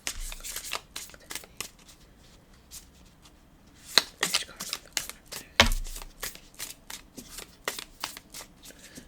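Tarot cards being shuffled by hand up close, a rapid run of crisp riffling slaps and flicks in uneven bursts, with a few louder snaps along the way and no talking.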